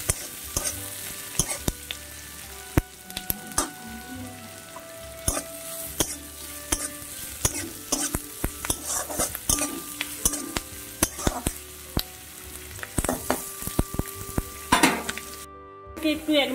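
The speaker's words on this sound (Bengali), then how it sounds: "তো পেঁয়াজগুলো একটু নাড়িয়ে চাড়িয়ে 1 মিনিট ভেজে নেব ফুল আঁচে।" Chopped onions sizzle in hot oil over full flame while a spatula stirs them, knocking and scraping against the pan in irregular clinks above a soft, continuous fry.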